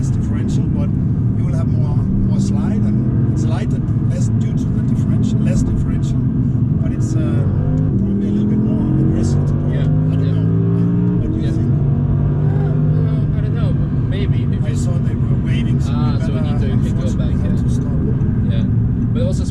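A 2019 Audi R8 rear-wheel-drive sports car engine roars loudly and steadily, its pitch sweeping up and down as it revs and shifts while driving.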